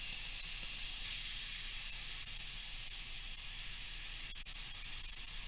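Steam hisses steadily out of an Instant Pot during a slow, controlled pressure release, a soft, even rush of air with no voices over it.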